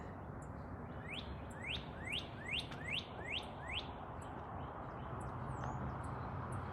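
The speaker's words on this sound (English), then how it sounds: "Yep, the birds are singing." Birdsong: a run of sharp, sweeping chirps repeated in quick succession, fairly close, over a steady low background rumble, with a few softer calls afterward.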